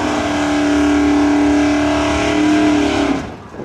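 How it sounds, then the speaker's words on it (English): A 1969 Dodge Dart nostalgia gas drag race car at a drag strip in Cayuga, Ontario roars loudly at close range, holding a sustained high engine note before it fades away. "Dave Britton out of Coldwater in his 69 Dodge Dart."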